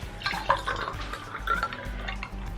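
Water poured into a glass of Ricard pastis, close trickling and dripping splashes with small clinks, uneven and moderately loud, no talking.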